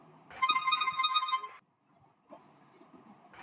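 A Cubot smartphone from 2012 plays a ringtone, a bright electronic melody of rapid repeating notes that stops abruptly, resumes softly after a short pause and starts again at the end.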